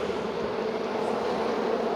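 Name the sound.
honeybees buzzing around a swarming hive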